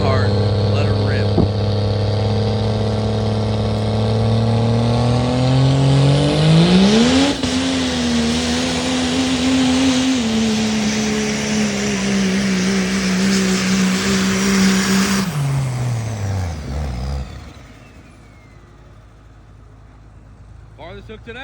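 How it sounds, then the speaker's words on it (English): A third-generation Cummins single-turbo diesel pickup pulls a sled at a street pulling event, its engine roaring loud and steady while the pitch climbs, holds and then cuts off near the end, with voices faintly beneath. "3rd gen Cummins single turbo"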